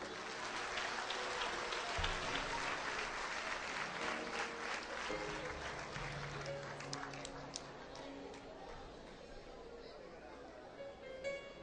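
A church congregation applauds during a sermon, sustained dense clapping filling the room with a crowd murmur and voices mixed in, steady throughout before tapering slightly at the end.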